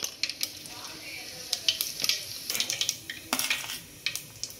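Mustard seeds and cumin sizzle in hot ghee with a little oil in a pan for veg fried rice: a steady close crackle, broken by sharp spoon clinks and scrapes from stirring.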